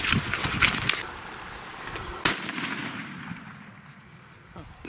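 A single sharp gunshot on a wild boar hunt cracks out mid-scene outdoors, fairly loud against rustling and brief talk from hunters before and after.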